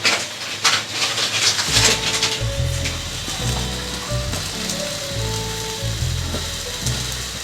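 Egg paratha sizzling and frying in a hot pan after being flipped to its second side, a steady close crackle with soft stirring or shifting sounds and faint background tones, no talking.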